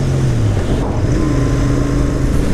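Harley-Davidson Iron 883 motorcycle engine held at a steady, loud rumble with a rising and falling tone, like a throttle being worked, under heavy wind noise from riding.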